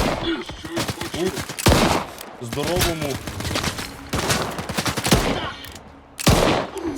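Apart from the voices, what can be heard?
gunshots in a video game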